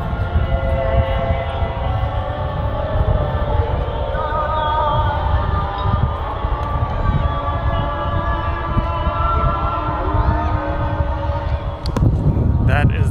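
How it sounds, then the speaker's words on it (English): Many mosques across Jaipur broadcasting the 7 p.m. call to prayer at once, a dense, continuous wash of distant amplified chanting voices echoing over the city with a low rumbling background. "That is the sound of hundreds of mosques spread across Jaipur doing the prayer at 7 p.m. sharp."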